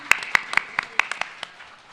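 A small audience at a live art competition event gives sparse, scattered claps, about nine sharp hand slaps spread unevenly over two seconds, fairly close and thinning out toward the end, with no talking over them.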